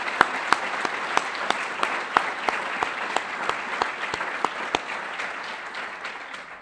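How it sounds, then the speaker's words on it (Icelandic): Audience applause at a management award ceremony at Háteig, Grand Hotel Reykjavík: a steady wash of many hands clapping with sharper individual claps standing out, gradually fading, with no talk over it. "Því ber að gefa gott klapp."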